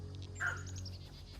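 Birds calling in the video game South of Midnight, a few short chirps over a steady low ambient hum, moderately near but soft.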